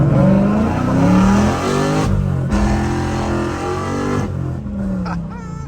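A Ford Mustang 5.0 V8 accelerates hard, its loud, close engine note climbing through the revs with a brief dip partway through as if shifting gears, captured from inside the car.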